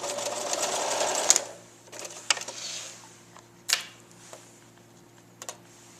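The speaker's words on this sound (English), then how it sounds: "we turn it over and we sew toward us, and again, push that cord next to your piece" A sewing machine stitches rattail cord binding onto a quilt in short, close bursts of rapid rattling, with pauses and quieter ticks between runs and no voices.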